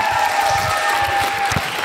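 An audience claps in a lively burst of applause after a comedy dialogue performance on stage, dense and continuous for about two seconds.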